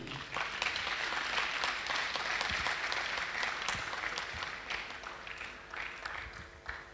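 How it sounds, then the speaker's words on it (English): Sustained applause from an audience at an online university technology week session, a dense even patter of many hands clapping for the whole stretch and easing slightly toward the end. "I think they want to clap for you."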